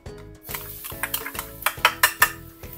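A whole head of garlic going into hot oil in a wok, with repeated clinks and scrapes of a utensil against the pan over a low sizzle; sharp metallic strikes cluster toward the end, and no one speaks.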